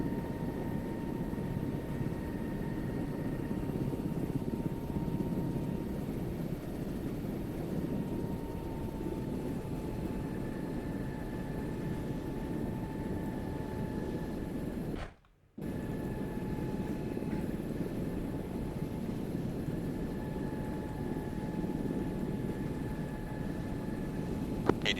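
An MH-60 helicopter climbing in a military video game, a steady, loud rotor and engine drone with faint turbine whine holding throughout, broken by a brief dropout midway.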